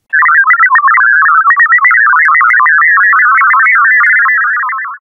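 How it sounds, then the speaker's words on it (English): Auditory illusion built from a rapidly jumping, garbled electronic tone that hides Mozart's Eine kleine Nachtmusik melody, loud and continuous for about five seconds with no voices. "at the top, you're going to hear this sort of garbled noise, but at the bottom, you're going to hear that melody, that Mozart melody."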